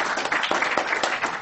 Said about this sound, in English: Why don't we give a round of applause to every speaker